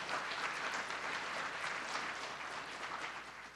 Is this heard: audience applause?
yes